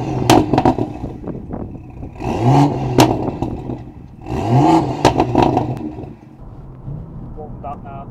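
A BMW F87 M2 pulls away on its first drive, its engine note rising and falling in two revving surges with clattering mechanical bursts, while people talk nearby.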